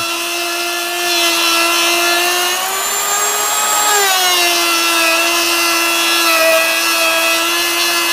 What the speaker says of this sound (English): This is a new polishing wheel.